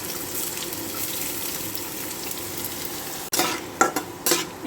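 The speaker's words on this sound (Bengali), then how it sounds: "একটু হালকা করে পেঁয়াজটাকে ভেজে নেব। পেঁয়াজটা এরকম হালকা করে ভেজে নিচ্ছি।" Chopped onion frying lightly in a pan, a soft continuous sizzle that is briefly interrupted, followed by scraping stirs and clatter near the end.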